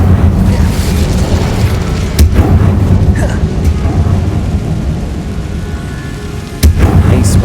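An Incendio fire spell cast in Hogwarts Legacy, heard as a deep booming burst over a steady roaring rumble of game ambience, with a second thudding burst near the end.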